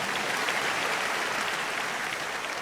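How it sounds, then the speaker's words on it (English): Church congregation clapping during a testimony service, a dense, steady wash of many hands throughout, fairly close and even in loudness, with no speech over it. "Are you clapping for Jesus?"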